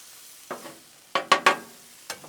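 Vegetables sizzling on a hot Blackstone griddle in short bursts, a few stirring scrapes bringing louder crackles, then quieting between them.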